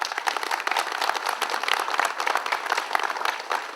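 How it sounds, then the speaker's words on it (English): Audience applause at a Greek American community gathering honoring diners, a dense and steady crackle of many hands clapping at close range, sustained without letup and with no talking over it. "And a round of applause for all those diners is in order."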